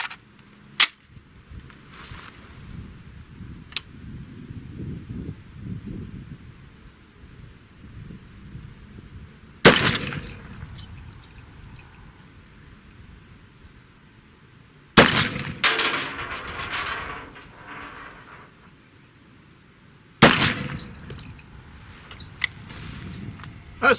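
Pistol fired at small steel targets hanging from frames 25 yards away outdoors, three loud, sharp gunshots spaced several seconds apart, each with a trailing ring and low background noise between, no talk.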